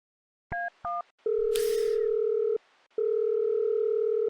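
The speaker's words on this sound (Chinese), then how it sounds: "我现在就给他们打电话" Telephone dialing on a call: two short keypad tones, then a steady ringback tone sounding in two long pulses with a gap between, clear and close in an otherwise quiet setting.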